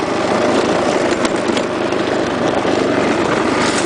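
A Get-er-done riding lawn mower's engine runs steadily and loudly up close, a dense unbroken drone while the mower moves down a driveway.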